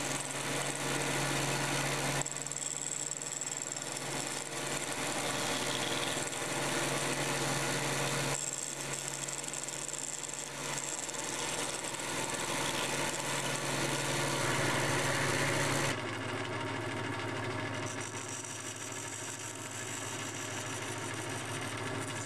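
A band saw cuts the teeth of a wooden pinion gear and rack, its motor a steady, loud whirring drone that shifts tone in several sections as the blade works through the wood.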